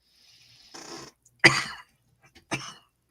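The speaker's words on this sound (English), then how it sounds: "Aside of coughing" Two sharp, close coughs from one person, the first a longer harsh burst and the second shorter, with a little breathing between them and no talking.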